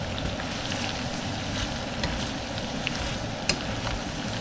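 Carrots and potatoes frying in a pan, a steady dense sizzle close by with faint stirring clicks, no voices.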